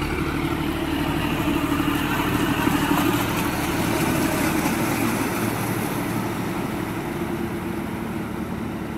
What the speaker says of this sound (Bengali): এখানে আমাদের এই মাঠে পাওয়ার টিলারে চাষ চলছে